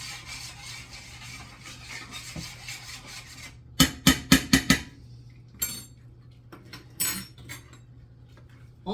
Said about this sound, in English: Let's stop and stir that around.